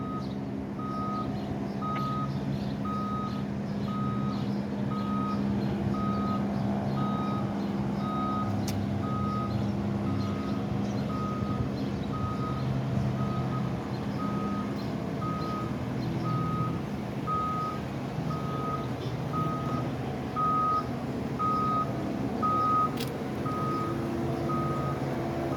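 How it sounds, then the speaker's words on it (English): A truck backs up toward a building at a police scene, its reversing alarm beeping in a steady, evenly spaced pulse over a continuous engine rumble for the whole stretch, with no one talking. "I guess he's gonna back the truck down closer to the"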